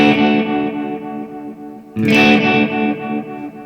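Electric guitar through a Boss DD-500 delay pedal set to 100% modulation depth plays two sustained, strummed chords, each followed by wavering, chorus-like repeats that fade out, loud and without talk.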